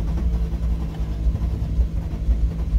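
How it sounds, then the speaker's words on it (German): Engine of a VW Golf 3 VR6 turbo restarted, with a suspected spark plug or cable fault, giving a low, steady rumbling drone close by with slight uneven pulsing and no speech. "Starte den einfach nochmal neu."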